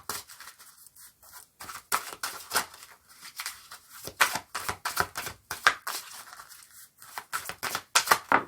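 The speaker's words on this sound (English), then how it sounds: "Let me shuffle these up." A deck of oracle cards being shuffled by hand, close rapid riffles and slaps in uneven bursts with brief pauses between.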